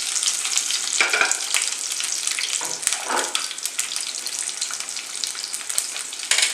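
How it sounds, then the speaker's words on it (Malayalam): Curry leaves, green chili and garlic fry in hot oil in a pan, a loud, continuous crackling sizzle close up, broken by a few sharper spits and the clink of stirring. "ഇതിൻ്റെ കൂടെ വെളുത്തുള്ളി ഇട്ടതിന് ശേഷം അതൊന്ന് ഫ്രൈ ചെയ്യാം."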